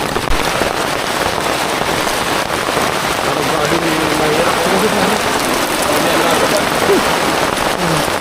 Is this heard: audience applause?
no